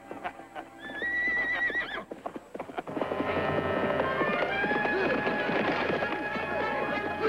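A horse whinnies twice in high, wavering cries, then hooves clatter and clop steadily at close range in a busy outdoor scene, with brief shouts of men among the commotion.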